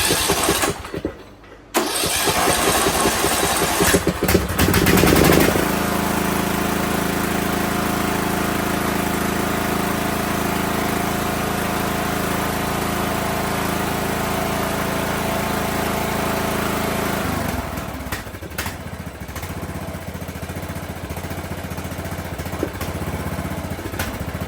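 Craftsman DLT 3000 riding mower engine cranks briefly, catches and runs, then settles into a steady idle, the small engine close and loud and alone without voices.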